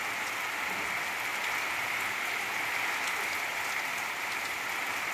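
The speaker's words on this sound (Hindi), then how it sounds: "इतनी मूसलाधार बारिश हो रही है।" Heavy monsoon downpour in Kushahar near Chaubepur, a steady, dense hiss of rain pouring without pause, close and loud throughout.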